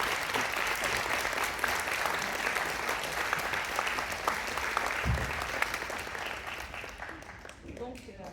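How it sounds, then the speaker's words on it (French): Sustained audience clapping at an intergenerational show in Magny-en-Vexin, dense and steady before tapering off at the end, with a voice starting to speak as it fades. "peut-être les applaudir déjà pour commencer."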